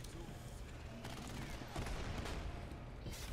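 Gunfire from the video game Narco Terror, a dense continuous burst of rapid shots and explosions under busy game noise, with a voice shouting over it.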